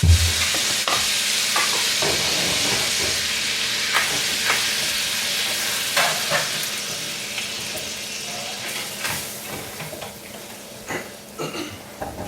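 A spoon scrapes and stirs flour into leftover meatball grease in a hot pan, with a low sizzle underneath and irregular scraping strokes that grow slightly quieter and more sporadic toward the end.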